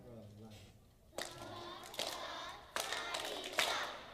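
Young first-grade children clap a rhythm together in a classroom, a few sharp group claps at steady intervals with faint talk before.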